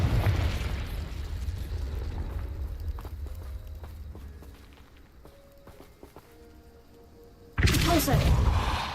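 Confringo explosion spell in Hogwarts Legacy: a loud, rumbling blast opens, then fades into quieter magical chimes and clicks before a second sudden, forceful burst near the end.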